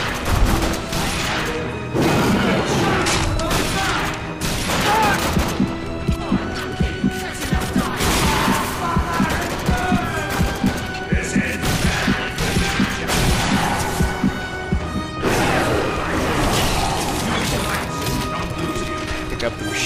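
Gunfire and crashing impacts from the video game The Darkness 2 burst repeatedly in loud clusters, dense and aggressive, layered over a background score.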